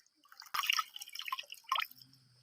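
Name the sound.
washing fish and squirrel meat in water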